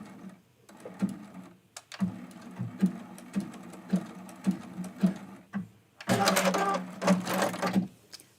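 Sewing machine stitching pieces of a quilted mug rug together, close and fairly quiet: bursts of rapid mechanical stitching separated by short pauses, then a brief louder run at the end for a back stitch.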